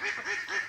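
Farm ducks quacking in three quick, fairly close calls, loud and nasal, with no talking over them.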